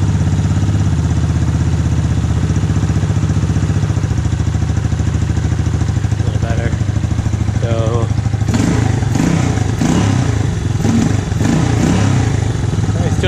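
A motorcycle engine with a rebuilt Mikuni VM round slide carburetor idles loudly and steadily close by, with a throbbing, slightly uneven beat, rough clatter, and brief blips of revving partway through. A voice speaks over it.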